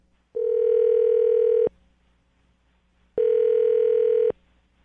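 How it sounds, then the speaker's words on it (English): Telephone dial tone before calling a number: two steady electronic tones, each about a second long, separated by a short silence, clear and alone with no talk. "I'm going to dial the phone number right now."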